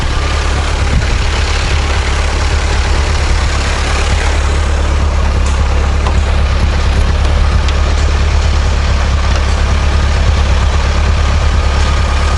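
A fully modified 1983 Suzuki Jimny with a turbo engine runs at a steady, loud, close idle with a deep low rumble, with no talking over it.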